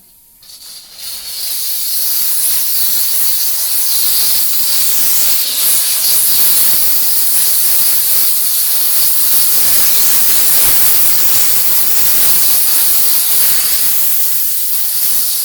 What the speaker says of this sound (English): We'll turn the steam on.